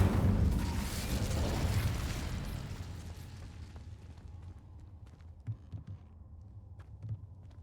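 Fire spells Confringo and Incendio bursting in the Hogwarts Legacy video game, a loud rumbling blast that fades over a few seconds into quieter scattered pops and thuds.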